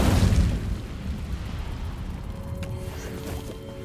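A fiery Incendio spell cast in Hogwarts Legacy bursts out loud at the start, then fades into a low rumbling wash, with faint tonal game chimes near the end.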